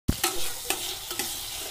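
Masala being roasted and stirred in a pan for a kala chana curry, with a few sharp scrapes of a spoon over a steady sizzle, close and moderately loud.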